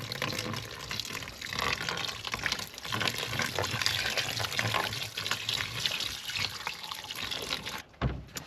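Water runs steadily from a tap while fishing tools and lures are washed of salt water, a continuous gushing splash that stops abruptly near the end.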